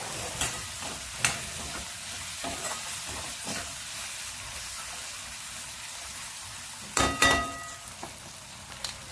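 Kala masala with red chilli fries in a hot pan, a steady close sizzle broken by a few sharp stirring clicks and scrapes, with a louder clatter near the end and no talk.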